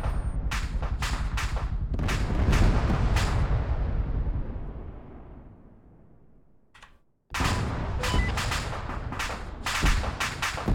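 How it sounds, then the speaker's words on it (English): A video-game rocket launcher fires with a heavy boom that rolls off into a long decaying rumble, then after a brief silence a loud impact erupts into dense crackling secondary blasts, all close and without talk. "Rocket prepped. Clear backblast."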